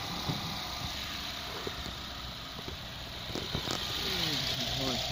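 A Nissan X-Trail T32 with a QR25 2.5-litre engine runs at idle, a faint steady hum heard close by under the bonnet, with someone talking over it and a few brief knocks.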